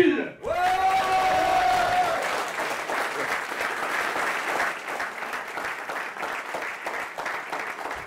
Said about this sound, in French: un tonnerre d'applaudissements pour Jürgen Steele